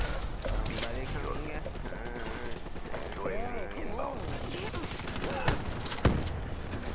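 Shotgun blasts in Call of Duty: Black Ops III multiplayer, a few sharp reports and weapon-handling clatter amid busy game noise, with someone talking over them.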